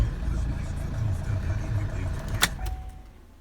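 A car engine is started cold without warm-up, with a low idling rumble throughout and a brief sharp click or clatter near the end as it settles.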